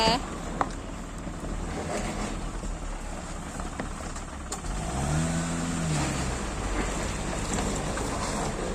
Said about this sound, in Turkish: Ay araba dönüyor.